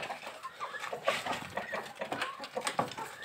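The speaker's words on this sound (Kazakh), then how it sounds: "Тауықтар мында." Several farmyard chickens cluck and shuffle nearby during evening chores around a vegetable plot, with overlapping soft calls in an uneven rhythm and no talking.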